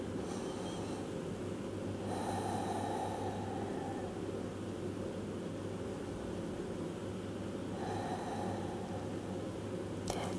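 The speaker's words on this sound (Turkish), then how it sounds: "İki nefes daha kal." Slow, steady breathing during a yoga breathing exercise for fibromyalgia, soft airy inhales and exhales over a constant low background hum, with brief louder breath swells near the start and end.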